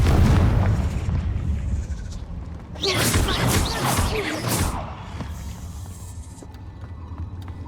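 Confringo spell explosions blasting in Hogwarts Legacy, a burst of crackling impacts from about three to five seconds over a rumbling low backdrop, with quieter ambient rumble before and after.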